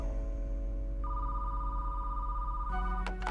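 A telephone rings alone, with a steady electronic tone that steps up in pitch, then a brighter burst of ringing near the end.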